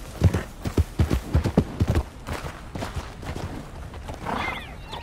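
An Arabian horse's hooves clip-clopping in Red Dead Redemption 2, a quick run of close, crisp hoof strikes that then fades into softer ambience with a faint whinny-like sound at the end.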